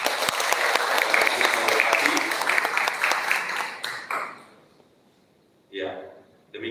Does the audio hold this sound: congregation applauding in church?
yes